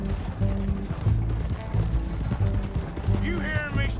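A horse-drawn coach in Red Dead Redemption II rolls along, with rhythmic hoof clip-clops and the rattle of wheels and harness sounding close and steady.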